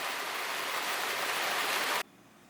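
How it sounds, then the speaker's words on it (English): Steady rain hisses during a thunderstorm, an even, moderately loud wash of noise that cuts off abruptly after about two seconds, leaving near quiet. "It's starting raining now, and it's going to get far worse very quickly."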